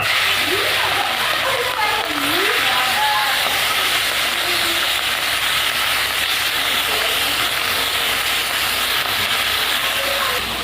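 Small morola fish coated in salt and turmeric fry in hot oil, a steady loud sizzling hiss that runs unbroken throughout, with faint voice traces underneath.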